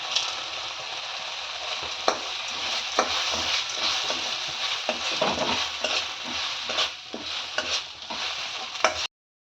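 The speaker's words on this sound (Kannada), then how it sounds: "ಈಗ ಮತ್ತೆ ಅದನ್ನು ನೀಟಾಗಿ ಮಿಕ್ಸ್ ಮಾಡ್ಕೊಳ್ಳಿ. ಈಗ ಅದು ನೀಟಾಗಿ ಫ್ರೈ ಆದಮೇಲೆ" A brinjal gravy masala is stirred in a frying pan, a steady close sizzle broken by repeated scraping strokes of the spoon that keep an uneven rhythm, with no talk, before it cuts to silence at the very end.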